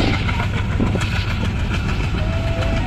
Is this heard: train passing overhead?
yes